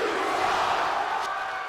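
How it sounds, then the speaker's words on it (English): Wrestling crowd in Second Life booing, a dense sustained roar of many voices that stays steady throughout, loud and unbroken. "I think this audience is booing El Renacido right now because he tried to cheat"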